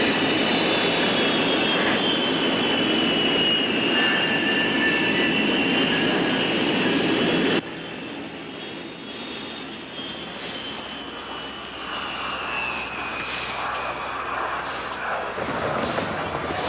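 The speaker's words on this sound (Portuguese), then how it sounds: "O avião já está taxiando para a pista." A passenger airplane taxiing toward the runway gives a steady, loud engine whine with a high tonal hum and broadband rumble, dropping in level partway through and continuing more quietly without any talk.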